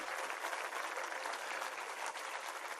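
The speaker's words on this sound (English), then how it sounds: "A big round of applause for them, every one of them." A crowd claps steadily for teachers at a school event, a dense, even wash of applause that holds at one level throughout without pause.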